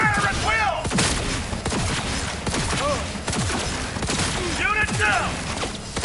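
Gunfire in the video game Cyberpunk 2077 combat, repeated sharp shots and blasts mixed with game sound effects and voices talking over the fighting throughout.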